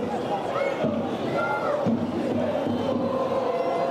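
Spectators packed into the stands at the Tomaselli stadium during a Sicilian Eccellenza football match between Nissa and Pro Favara, applauding as a steady, dense wash of clapping and crowd murmur, with a commentator's voice over it.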